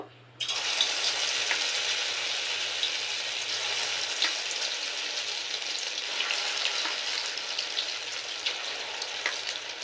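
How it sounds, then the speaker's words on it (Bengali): Marinated soybeans dropped into hot white oil in a kadai burst into a loud, steady, crackling sizzle that continues evenly without pause. "আমি সাদা তেলে এবার সোয়াবিনগুলো ফ্রাই করে নেব"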